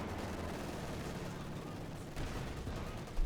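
Gunfire in the World War II strategy game Company of Heroes 2, a dense, continuous rattle of small-arms and machine-gun fire with distant booms, steady and busy throughout, ending on a slightly louder burst.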